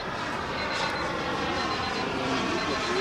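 Radio-controlled model airliner on landing approach, its engine drone steady and fairly loud as it throttles back, a continuous broadband roar with no talk over it.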